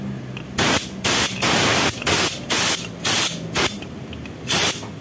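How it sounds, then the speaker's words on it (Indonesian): Repeated short bursts of spray aimed from underneath a motorcycle cylinder head to find a leak, with about seven loud hissing blasts in an irregular rhythm over a low engine-like rumble. "Kita semprot dari bawah."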